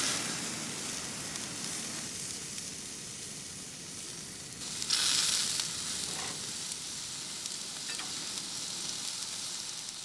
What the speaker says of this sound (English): let's get these steaks on